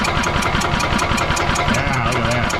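A 1998 Yamaha G16 gas golf cart runs its fuel pump, a steady loud mechanical drone with a rapid regular pulse throughout, close by, while people talk nearby.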